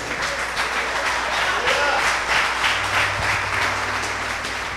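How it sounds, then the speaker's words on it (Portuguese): A church congregation applauds in praise, a steady, full wash of many hands clapping that fills the space without pause, with faint voices underneath. "vamos aplaudir o Senhor"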